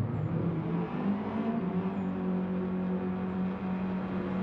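Race car engine from Gran Turismo Sport, a GR.3 class car at the Nürburgring Nordschleife during an endurance race, droning steadily and loudly at a low pitch throughout as the throttle is pressed hard.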